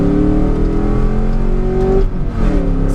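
Dodge Durango RT with its 360-horsepower V8 engine accelerating hard while merging, a loud, steady close-up roar with rising engine tone that briefly dips before picking up again.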